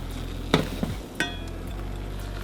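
A couple of sharp clinks and a soft splash as potatoes are dropped into a pot of hot milk, followed by a low simmering hiss over a steady hum.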